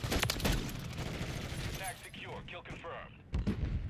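Rapid pistol fire from a .50 GS handgun in a first-person shooter game rattles in close, dense bursts, mixed with other game effects and a voice talking over them.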